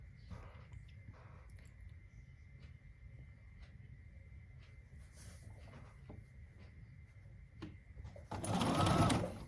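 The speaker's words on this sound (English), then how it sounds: "We're actually here in the sewing room together. And we're sewing and we're having fun." A sewing machine stitches a quilt in a home sewing room, its motor whirring steadily at low volume, then rising into a loud, fast burst of stitching near the end.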